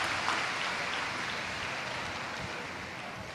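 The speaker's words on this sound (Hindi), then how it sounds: "एक बार जोरदार ताली बजाकर बाबा जी के लिए बहुत बहुत साधुता" Broad, steady applause from a large seated crowd at a Shiva Mahapuran katha in Varanasi, sustained and dense for several seconds with no voices over it.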